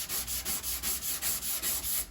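Steady rhythmic sanding of body filler on a Jeep Patriot panel, close and continuous, with about eight even back-and-forth strokes pulsing through the whole stretch.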